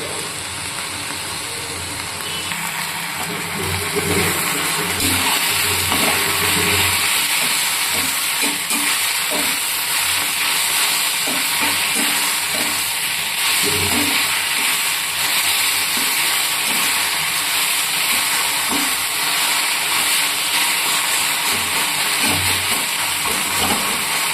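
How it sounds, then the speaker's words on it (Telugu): Fenugreek leaf curry frying in a pan gives a loud, steady sizzle with scattered scraping and clinking from stirring throughout. "కూరకు బాగా వేయించుకుందాం పచ్చివాసన పోయేదాకా లేదంటే చేదొచ్చేస్తుంది"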